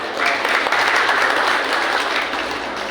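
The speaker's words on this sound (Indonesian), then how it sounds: "Terima kasih atas tepuk tangannya" An audience applauds at a village head inauguration ceremony, a dense, steady wash of many hands clapping together in a hall, loud and sustained before easing slightly at the end.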